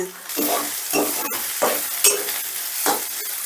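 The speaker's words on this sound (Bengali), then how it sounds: "এবারে আদা রসুনটাকেও একটু নাড়াচাড়া করে নেব" Crushed ginger and garlic sizzling in hot oil in a pan, with a burst of stirring strokes, scrapes and a few sharp clinks of the spatula close up, short and busy, without speech.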